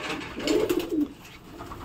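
Domestic pigeons in a loft give one short, close, throaty coo burst, with quiet room noise before and after.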